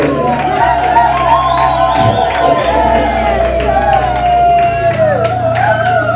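Wedding guests at a celebration in Dallas cheer and whoop together, a dense, loud crowd roar held steadily throughout, with a voice carrying over the noise.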